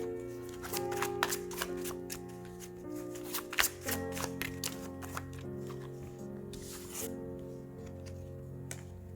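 Tarot cards are shuffled and drawn by hand, making a series of crisp flicks and taps over soft, sustained background music, with a busier riffle near the middle.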